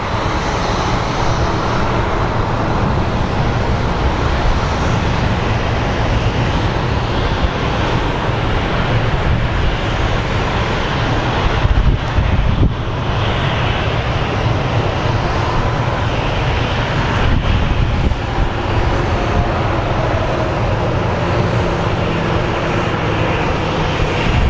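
An airliner takes off at Phoenix Sky Harbor International Airport with a loud, sustained jet engine roar that fills the whole stretch and stays broadband and steady as the plane becomes airborne, with no talking.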